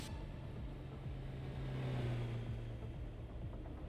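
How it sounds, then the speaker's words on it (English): A continuous low rumble of car engines with revving swells, like heavy traffic passing nearby in Euro Truck Simulator 2, steady and moderately loud without speech. "Man, there's like 100 cars coming here."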